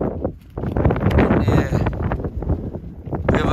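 Steady, heavy wind buffeting the microphone at Middleton Crag, a continuous loud rushing roar with gusty swells throughout.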